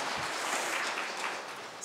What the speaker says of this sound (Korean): 위해서 박수를 이렇게 치고